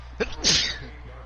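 A single sharp sneeze bursts out over the steady hum of a football broadcast between Dreamers and Jags, a short sharp blast that fades quickly.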